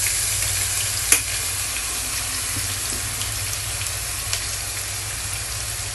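Crushed onion and ginger paste frying in oil, a steady even sizzle with a single sharp utensil clack early on and a fainter knock later, no talking.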